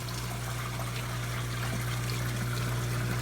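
Fresh water running steadily through a cichlid aquarium tank and its filter, a continuous close trickling rush under a constant low hum.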